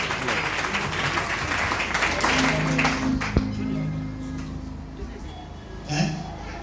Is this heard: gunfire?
no